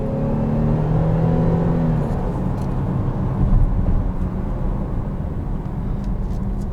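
A 2020 Chevrolet Blazer RS drives through turns, its engine hum and road noise steady and close throughout, with a slight swell midway and a faint tonal whine early on.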